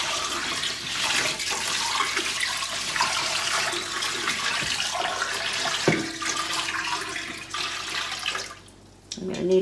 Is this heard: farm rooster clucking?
no